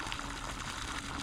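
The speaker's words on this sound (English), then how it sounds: "So that's the first water reaching" Waste reverse-osmosis water flows into a drying pond, a continuous soft splashing trickle with no pauses, steady and moderately close, with no one talking.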